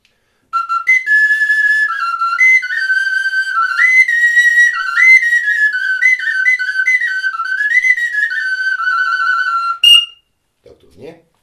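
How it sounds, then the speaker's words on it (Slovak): A tiny high-pitched folk whistle, among the smallest in the world, plays a lively, trilling folk melody for about nine seconds, shrill and close, ending abruptly. "To bola najmenšia píšťalka pravdepodobne na svete"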